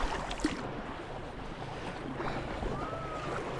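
Sea kayak being paddled through the Swedish archipelago near Öja and Landsort, with a steady wash of water and wind noise and faint paddle splashes, no voices.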